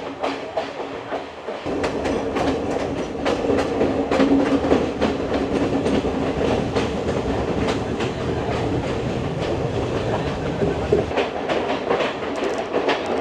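Rhythmic wheel clatter over rail joints under a constant rolling rumble, heard steadily throughout as an intercity express train runs from Kandy to Colombo in Sri Lanka.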